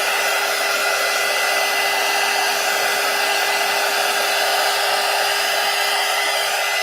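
A heat gun blows steadily to dry a paper collage pumpkin, a loud, unbroken whirring rush with a constant whine and no other sounds.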